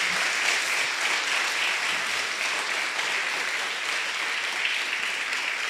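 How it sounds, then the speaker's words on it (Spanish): A church congregation claps and applauds in praise during a worship service, a continuous even roar of many hands sustained throughout, fairly distant and without clear individual claps standing out. "Amén, démosle palmas"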